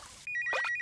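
A telephone rings in a French-dubbed episode of the animated show The Amazing Digital Circus, a bright electronic trill that starts abruptly partway through and repeats in quick pulses, fairly loud and alone.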